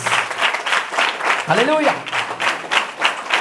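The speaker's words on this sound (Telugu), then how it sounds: "Give claps to Jesus." A church congregation claps in steady applause through a Sunday sermon, a dense run of close hand claps while a preacher's voice calls out and speaks over it.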